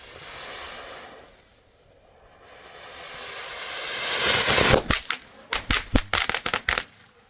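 A Volcano firework fountain from a shop set hisses and roars as it sprays, then fires a rapid run of sharp cracking bangs, loud and close with no talk over it.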